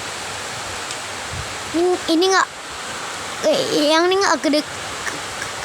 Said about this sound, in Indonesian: Di Melabuh ini mah hujan.